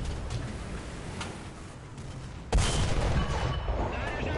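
A turret fires in a video game, with one sharp, loud blast midway that cuts through quieter background noise and leaves a sustained rumbling tail.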